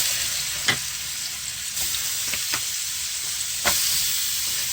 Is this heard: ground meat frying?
yes